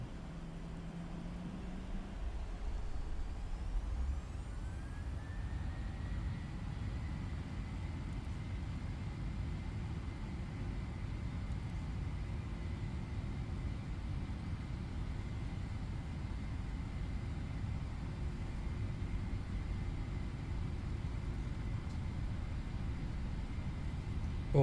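Steady, even jet engine roar of a PMDG 737-800 in the Prepar3D v5 flight simulator holding a constant level throughout a takeoff roll from runway 9 left, with a brief rising whine early on and no talk.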